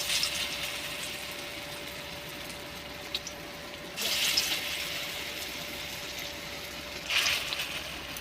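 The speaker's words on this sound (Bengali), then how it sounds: "এবার বড়াগুলো ভেজে নেব।" Bottle gourd leaf fritters fry in hot white oil in a kadai, giving a steady, continuous hiss and sizzle with brief louder crackling bursts partway through and near the end.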